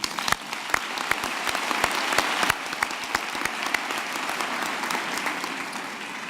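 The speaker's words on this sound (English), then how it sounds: "give her another round of applause, please." A room full of people clapping at a university graduation ceremony, sustained applause with sharp individual claps standing out, fading slightly toward the end.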